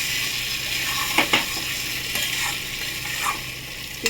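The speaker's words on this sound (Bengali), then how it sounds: "এবার গ্যাসটা স্টিম করে দেবো, স্টিম করে নাড়াচাড়া করবো।" Egg curry sizzling steadily in a pan as it is stirred, with a few sharp scrapes and taps of the spoon against the pan breaking through the continuous hiss.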